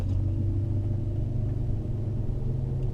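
A BMW E31 840Ci converted to electric drive pulls under throttle, a steady low rumble and motor drone with road noise that stays fairly constant throughout.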